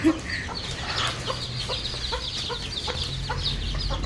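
Chickens cluck softly in short repeated bursts, with a few brief peeps, close by over a steady low background hum.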